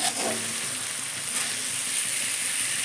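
Soft madhu bhola fish frying in hot oil in a pan, a steady loud close hiss and sizzle with faint stirring, no voices.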